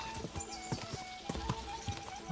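A horse gallops in Kingdom Come Deliverance 2, its hooves striking in a quick, uneven rhythm of close, fairly quiet thuds over a faint tonal game hum.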